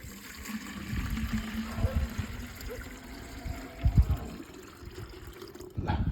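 Hot water is poured in a steady trickle into a container, with low thumps and handling noise mixed in close by.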